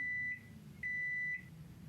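A microwave oven beeps: two steady electronic tones, the second longer than the first, fairly quiet against a low background hum.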